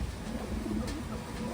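A Taiwan racing pigeon coos softly and repeatedly nearby, low murmuring calls over a quiet background with no talking.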